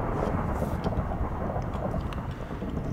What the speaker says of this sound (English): Man, is that lightning ever loud.